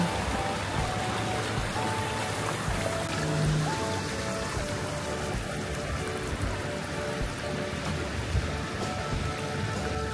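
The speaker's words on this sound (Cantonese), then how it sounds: "嗰度啊，爆咗消防喉啊！" Water gushes from a burst fire hydrant and floods a residential street in Los Angeles, a steady loud rushing and splashing like heavy rain that continues unbroken throughout.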